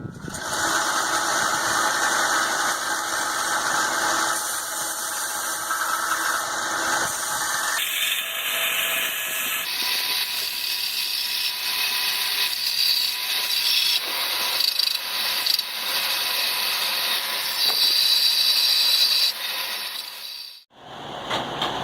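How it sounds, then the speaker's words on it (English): Belt grinder flattening cable Damascus steel cubes for dice: a loud, steady abrasive whine and rasp that shifts pitch as pressure changes, running continuously for about twenty seconds before cutting off at the end. "next step's to put them on the belt grinder and grind them flat"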